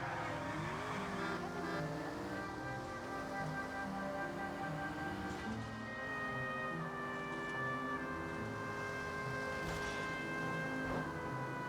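A car drifts in a video game with steady engine drone and sustained tire squeal tones that shift in pitch, all playing continuously at a moderate level.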